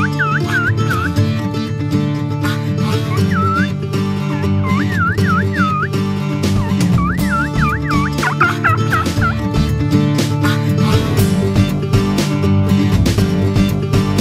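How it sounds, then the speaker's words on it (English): Wild turkey toms gobbling near decoys in the field, repeated loud rattling gobbles and yelps over a busy outdoor background, close and persistent through the whole stretch. "right away, two of the toms came just running at the decoys"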